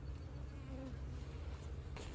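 Honey bees hum steadily around an open beehive with a freshly placed ten-frame honey super. The drone is low and continuous, close by and fairly quiet, and it ends in a short rustle or knock.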